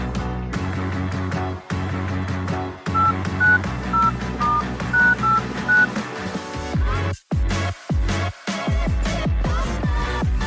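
Telephone dialing tones from incoming and outgoing phone calls, a loud series of short electronic beeps and tones in quick succession, with no speech.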